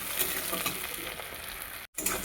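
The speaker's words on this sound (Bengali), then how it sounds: "তার মধ্যে দিলাম পেঁয়াজ আর কাঁচা লঙ্কা কিছু পরিমাণে এটাকে একটু লাল লাল করে ভাজা ভাজা করে নেবো" Onion and green chilli frying in a pan, a steady close sizzle with faint stirring clinks, broken by a brief silent gap near the end.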